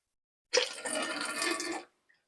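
Tap water gushes for just over a second while a double-sided grill frying pan is rinsed, a close, loud splashing stream that cuts off abruptly into silence.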